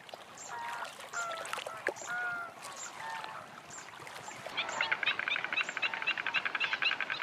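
Flamingos in spring breeding season call in a noisy flock, a dense chatter of honking, nasal calls that swells into a rapid, rhythmic chorus toward the end, steady and fairly close with no talk.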